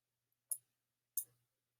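Two crisp, isolated clicks of a computer mouse ring out about two-thirds of a second apart against near silence.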